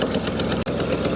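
Old abandoned big block Ford 4x4 engine running after decades, a loud, steady rhythmic chug with knocking pulses and a momentary dip midway, close up with no talk.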